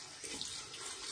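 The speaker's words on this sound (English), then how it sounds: "I'm gonna give a little rinse to the bowl real quick so I can show that off a little bit better" Water from a running tap rinses a shaving bowl in a sink, giving a continuous close splashing hiss with no voices over it.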